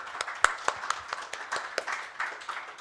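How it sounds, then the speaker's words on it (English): Scattered claps from a small audience at a semiconductor workforce development panel, a sparse, uneven patter of separate hand claps fairly close by with no voices over them. "A round of applause for our own SCL."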